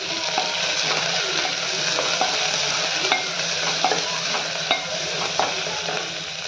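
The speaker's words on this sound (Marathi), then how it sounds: "कांदा असा परतून एकसारखा घ्यायचा" Onion and green chili sauté in a hot pan with oil, a steady close sizzle broken by repeated light scrapes and taps of a spoon stirring.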